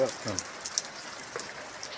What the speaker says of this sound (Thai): ลูกเห็บตกหนัก